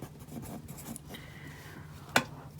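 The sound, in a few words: writing an equation by hand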